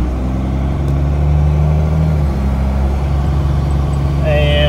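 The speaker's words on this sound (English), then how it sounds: "Just gonna take a drive down the driveway and see if it goes." A car with a wiring problem idles and rolls slowly down a home driveway, its steady low engine hum continuous and close, with a faint whine near the end.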